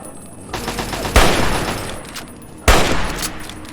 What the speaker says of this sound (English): they're shooting the behemoth